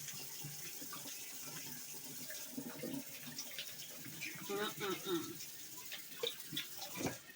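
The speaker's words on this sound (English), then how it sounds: "we're going to wash the hands" Water runs from a kitchen tap as hands are washed beneath it, a soft, steady splashing with uneven surges, quiet and close, while a person talks over it.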